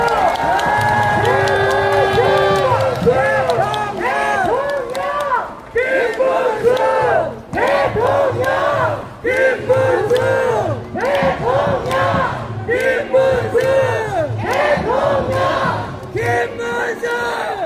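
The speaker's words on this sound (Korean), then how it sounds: "여러분 그 박수 부탁드리겠습니다" A large crowd at a presidential candidate's campaign rally outside Beomgye Station in Anyang claps and cheers loudly and steadily, with shouts and chanting voices rising over sustained applause throughout.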